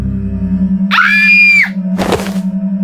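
A girl lets out one loud, high, drawn-out scream of pain, followed by a brief harsh noise burst over a steady low hum.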